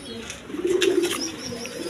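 A close pair of Lahori pigeons, male and female, gives one swelling low coo in the middle, with a few faint clicks and chirps around it.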